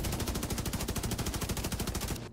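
Rapid cannon fire in a video game, a dense continuous string of evenly spaced loud blasts rattling on for about two seconds before cutting off.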